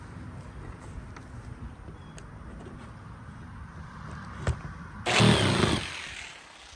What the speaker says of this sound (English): we'll take the old jigsaw and try to finish her out